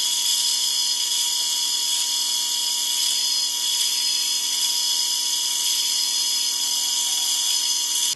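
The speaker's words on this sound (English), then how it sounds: "now that I got the holes drilled" Steady, loud high-pitched whine of a power drill boring holes in wood, running continuously for several seconds, close by, with no pauses.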